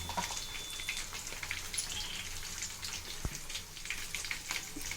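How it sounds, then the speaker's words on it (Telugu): Crushed garlic fried in hot oil for a gooseberry pickle gives a steady, close crackling sizzle with fine popping throughout, with no voices. "చితక్ కొట్టుకొని నూనెలో వేసి వేయించుకోవాలి."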